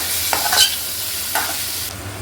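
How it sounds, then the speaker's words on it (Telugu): Spiced paneer pieces fry in a pan over a low flame for butter paneer masala, giving a steady close sizzle with a few quick scraping stirs of a spatula and no voices. "మంచిగా గోల్డెన్ కలర్ వచ్చే వరకు ఫ్రై అయిపోయినాయి ఇవి"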